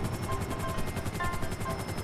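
A helicopter in GTA Online whirs with a loud, steady rhythmic rotor chop throughout.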